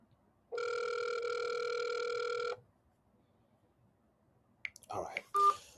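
A telephone call sounds a steady two-second ringing tone, followed after a pause by a few short, bright dialing beeps with faint rustling around them.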